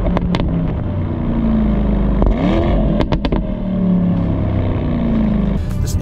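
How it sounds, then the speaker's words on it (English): A Porsche Panamera Sport Turismo GTS with its standard sport exhaust in sport mode rumbles and revs, producing a throaty engine note punctuated by a few sharp blips. "and this comes standard with the sport exhaust."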